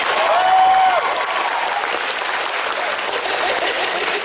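Applause from the audience at a YouTubers panel at MCM Scotland 2017, loud continuous clapping from a large crowd with a brief whoop early on, holding steady throughout.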